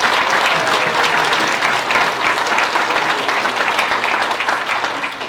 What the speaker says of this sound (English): so big round of applause to Mrs. Vandergoof in the back.